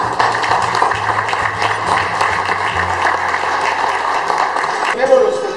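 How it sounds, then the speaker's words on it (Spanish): An audience applauds at a gathering at a tequila distillery, steady dense clapping with voices talking underneath throughout. "aplauso para él"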